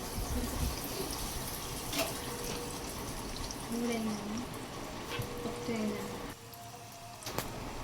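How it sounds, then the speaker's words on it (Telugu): Chicken leg pieces for homemade KFC-style chicken deep-fry in hot oil, giving a steady, dense sizzling hiss with occasional pops and spatters, and a voice speaks over it. "ఇప్పుడు లెగ్ పీస్ని నూనెలో వేయించుకుందాం."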